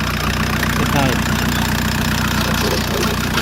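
A VW Polo 1.9 TDI diesel engine idles with a clunking fault linked to a seized water pump, giving a steady, loud low rumble with a rhythmic knock throughout while someone talks over it.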